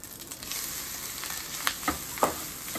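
Grated coconut sautéing lightly in a pan for Tamil coconut rice, a soft, steady sizzle with a few faint stirring clicks and scrapes near the end.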